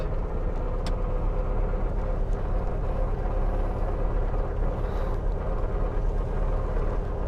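A 1967 VW Karmann Ghia engine driving in first gear on its first run after long storage, a steady low rumbling drone with slight pulsing, close and continuous without any talk.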